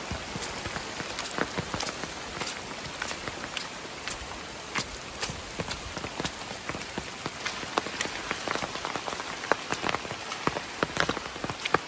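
Steady rain pours down, with many sharp drops pattering close by on a hard surface, no voices.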